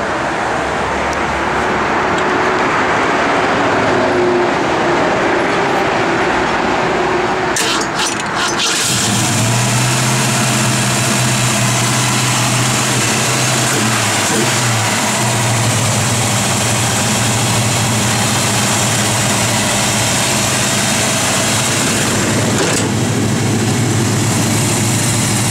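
A 1965 Ford Mustang engine runs loud and close, with a rough rumbling idle throughout and a shift in tone partway through, steady for the full stretch with no talking.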